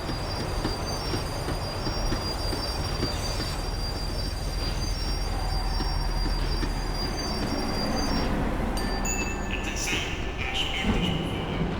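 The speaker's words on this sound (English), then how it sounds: "The tram was slowing down, and I'd only just gotten on board." A tram in the video game Max Payne 3 rumbles steadily as it slows, with loud low wheel roar and squealing rail tones, then brake hiss and clanks near the end.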